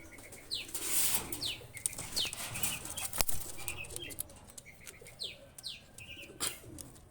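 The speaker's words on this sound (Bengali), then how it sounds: "এই দুইটা কবুতার রয়্যাল টেডি কবুতার" Royal Teddy pigeons, a high-flying breed, give soft low coos mixed with repeated bursts of flapping wings and a few chirps, close by and fairly quiet, with no talking.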